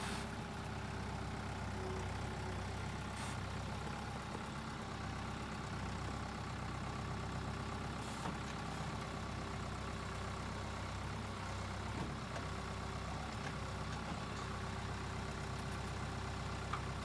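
A ranch tractor engine runs steadily at idle or low revs on a lambing-time ranch, a continuous low rumble with no talk over it.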